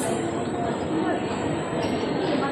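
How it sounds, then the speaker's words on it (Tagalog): Singapore SMRT Thomson-East Coast Line train pulling into an underground station, a steady loud broadband rumble of wheels on rail with a high whine, continuous throughout. "Tuwas Link yung tren dapat."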